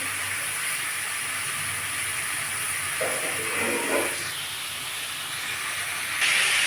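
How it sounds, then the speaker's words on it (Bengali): Snake gourd frying in a pan with green chilli, giving a steady close sizzling hiss that runs throughout, with a brief burst of stirring movement partway through and no talk. "এটাকে ভালো করে ভাজবো"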